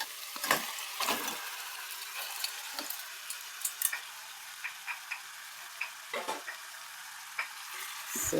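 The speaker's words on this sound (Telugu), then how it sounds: "ఈ ముక్కలు ఇందులో వేసేద్దాం." Salt, chili and turmeric-coated fish pieces for a fish pulusu curry go into a hot pan, giving a steady sizzle of frying oil broken by several sharp clatters and scrapes as the pieces land and are moved, with no talking.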